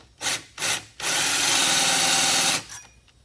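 A drill-driven ring filer grinds piston rings for a nitrous or turbo engine build. Two short whirring bursts come first, followed by a sustained, loud rasping grind of about one and a half seconds, then a brief trailing scrape.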